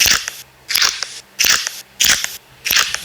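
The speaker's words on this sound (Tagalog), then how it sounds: "Pero hindi ko alam kung ganito talaga yung tunog ng Nido." In a Roblox tower game, Nido milk cubes give five loud, crisp crunches at a steady rhythm, each a short crackling bite close up with quiet gaps between.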